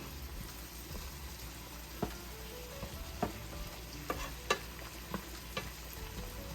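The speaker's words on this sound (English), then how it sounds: "I know you can smell those onions and peppers cooking." Onions and peppers sauté in a pan, giving a steady soft sizzle with occasional faint pops and light scrapes, close but quiet, with no voices.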